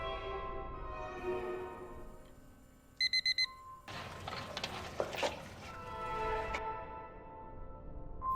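An alarm clock gives a short burst of rapid, loud electronic beeps in the middle, amid indoor rustling and clattering before and after.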